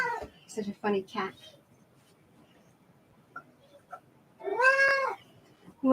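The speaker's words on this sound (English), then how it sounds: "Such a funny cat." Cat meowing indoors near someone offering it food: several short mews early, then one long, loud, drawn-out meow near the end, with another starting right at the close; close by with quiet pauses between.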